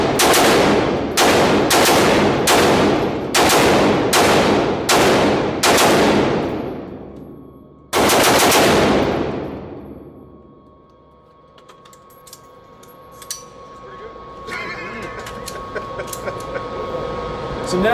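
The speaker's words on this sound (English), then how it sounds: "this is his Zev AR." A Zev AR rifle fires a rapid string of about eight sharp, loud gunshots outdoors, then one more shot after a pause, followed by quieter background sounds and faint distant shots.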